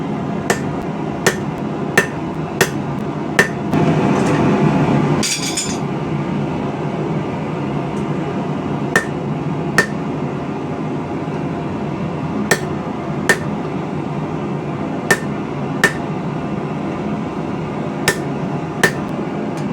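A hammer strikes hot steel to punch marks into a hand-forged feather-style knife blade. Sharp, evenly spaced metallic blows ring out about once a second, with a brief hissing burst partway through and a steady background hum.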